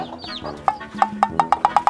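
A chicken clucks close by in a quick run of short, evenly spaced, sharp clucks that speeds up toward the end, with some higher bird chatter at the start.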